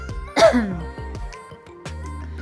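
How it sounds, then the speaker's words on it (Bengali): A person coughs once, a short harsh throat-clearing burst, followed by quiet breathing and a faint second rasp near the end. "এখন আমার হচ্ছে একটু কাশি হচ্ছে"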